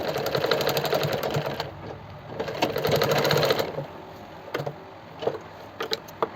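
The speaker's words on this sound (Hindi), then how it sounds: "इस तरह से हमने लेस की स्टिचिंग कर ली है ऑलमोस्ट।" An electric sewing machine runs in bursts, stitching lace trim onto the neckline of a kurti: a fast, steady mechanical whirr that starts and stops, followed by a few softer isolated clicks and taps near the end.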